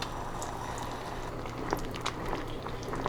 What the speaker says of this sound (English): And just simmer that for another minute and then we're done.